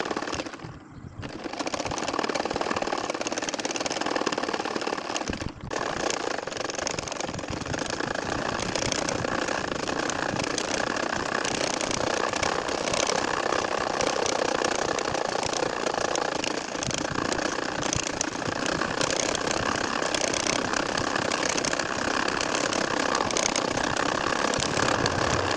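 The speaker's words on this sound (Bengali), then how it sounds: "মেশিন দিয়ে কাঁথা সেলাইয়ের ক্ষেত্রে" A sewing machine stitches a nakshi kantha quilt in a spiral snail pattern, running as a fast continuous mechanical whirr and clatter with only brief stops near the start.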